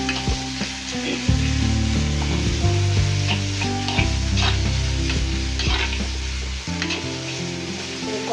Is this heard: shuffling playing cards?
no